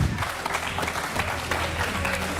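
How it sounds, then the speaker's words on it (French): Audience applauding steadily throughout, a dense patter of clapping from a modest crowd, with faint voices mixed in. "Applaudissez pour lui."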